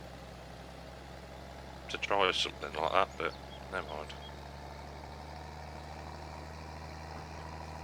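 A battered tractor idles in Farming Simulator 22 with a steady low engine hum throughout, while someone briefly talks over it in the middle.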